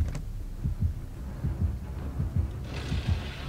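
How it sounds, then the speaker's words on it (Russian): A pounding heartbeat from the Dead by Daylight video game: steady, evenly spaced low thumps repeat through the whole stretch over a dull background rumble, with no voices. "Я слышу сердцебиение."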